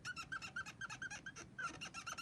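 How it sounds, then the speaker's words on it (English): Soft-tipped marker pens squeak across paper while someone colours, making a quick run of repeated high squeaks in short rhythmic strokes, close and fairly quiet. "I think there's soft tips, which is why they squeak so much."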